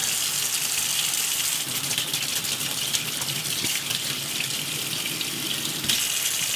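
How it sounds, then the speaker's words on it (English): Hot water runs steadily from a tap while stout is brewed on a Pinter, a continuous close gushing rush at constant strength with a brief surge near the end, no voices. "So we got the hot tap on today."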